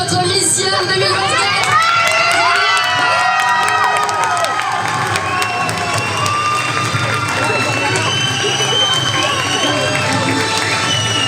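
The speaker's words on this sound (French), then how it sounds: "On applaudit bien fort votre Mission 2024." A large audience at the Miss Yonne 2024 beauty pageant election cheers, whoops and applauds loudly without pause, a dense, continuous roar of shouts and clapping filling the hall.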